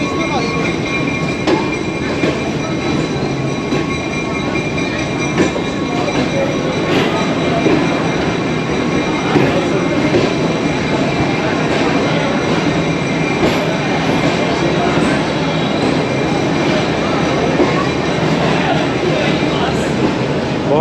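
A Pakistani train rumbles at the Jhelum railway station platform, a steady close roar of rolling cars with faint clatter and rail noise throughout, while a voice talks over it.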